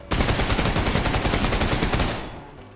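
Rapid automatic gunfire in the shooter Trepang2, a dense, loud, evenly paced burst of close shots lasting about two seconds, then fading out.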